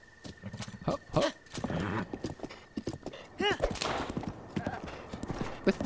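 A horse gallops in Breath of the Wild, its hooves clip-clopping in a quick, steady rhythm throughout. The animal snorts and whinnies briefly, and a person talks over it.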